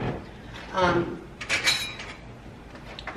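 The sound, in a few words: handling a non-stick pot and grate of a Ninja Speedi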